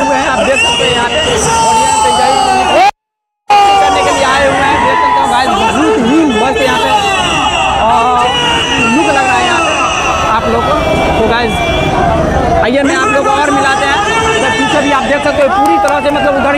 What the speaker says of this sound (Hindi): बहुत ही ज़्यादा यहाँ पे भीड़ लगी हुई है